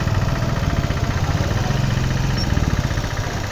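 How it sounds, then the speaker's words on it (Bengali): A Royal Enfield motorcycle engine runs steadily on the Puri road in Odisha, a close, continuous low thumping rumble with a fast regular pulse and no voices over it. "উড়িষ্যা পুরী রাস্তায় এখন আমরা রয়্যাল এনফিল্ড চালাইতেছি"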